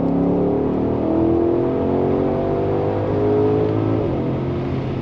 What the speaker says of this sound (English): nothing beats the sound of a proper V8